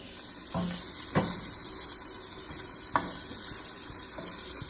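Mushrooms going into a sizzling pot while someone stirs, a constant frying hiss broken by a few sharp clunks and soft thuds as pieces drop in.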